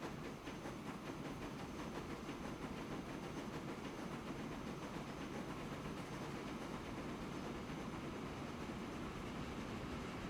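Trains running in a transport management game, a steady dense rumble of rolling wagons with faint clickety-clack, continuous and even throughout with no talking.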